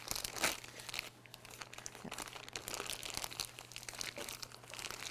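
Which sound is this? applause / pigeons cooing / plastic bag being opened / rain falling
plastic bag being opened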